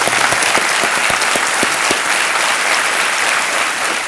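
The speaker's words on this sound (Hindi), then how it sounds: "तालियों के साथ आपका अभिनंदन करते हैं।" Studio audience on the Kaun Banega Crorepati quiz show applauds loudly and steadily, a dense sustained burst of clapping with a few sharp accents near the start.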